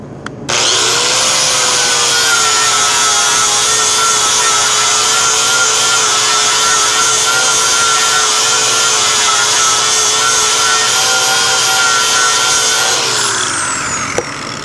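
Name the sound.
grinder grinding metal of Chevelle frame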